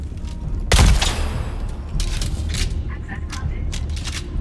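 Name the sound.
heavy machine gun fire from the video game Dune Awakening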